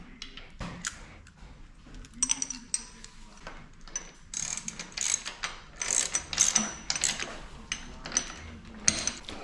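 Close ratchet clicking in repeated bursts as a 15 mm deep socket turns the peg bolts on a Sebikes Big Flyer wheelie bike, with short pauses between strokes and no talking.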